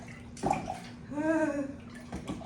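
Water sloshes and splashes in a bucket during a show dog's bath, a short gurgling swirl of nearby splashing with faint movement around it and no talking.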